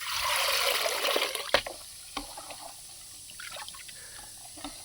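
Coriander seeds being rinsed in water and lifted out with a perforated ladle: a steady watery slosh fades into scattered drips and small splashes, close by with no talk.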